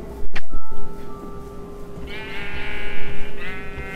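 Sheep bleating in the video game Minecraft, two wavering bleats in the latter half, loud and close, following an earlier sharp click-like game sound over steady background hum.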